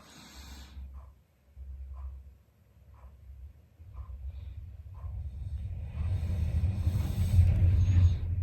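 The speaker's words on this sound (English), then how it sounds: "All those damn trucks, I tell you. So loud." Heavy trucks rumble past outdoors on a snowy day during an ice storm, a low engine roar that swells and grows loud toward the end, with soft ticking sounds earlier.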